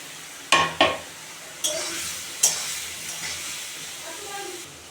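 Ridge gourd and potatoes stir-fry with onions and spices for a fish curry, with a low sizzle under a few sharp clacks of a spoon against the pan, heard close and without talk.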